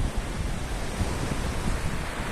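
Waves roll onto the beach at Luwuk Timon in Aceh, a loud, continuous wash of surf mixed with buffeting wind noise and no talking.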